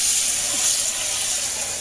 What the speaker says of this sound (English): What I do is just run the hot water